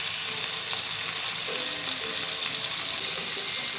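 Mussels cook with tomatoes in a hot pan, giving a dense, continuous sizzle and crackle with faint bubbling, close and steady for several seconds without any talking.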